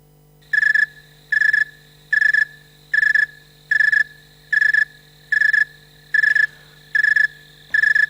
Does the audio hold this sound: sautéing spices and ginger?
no